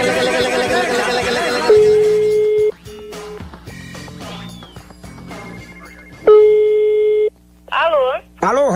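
During a prank phone call, a telephone line gives long, steady electronic tones, repeated with pauses, after excited talking and before more chatter on the line.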